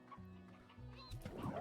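Chickens clucking in the video game Slime Rancher, a short burst of fowl calls over steady game background music, moderately loud and close.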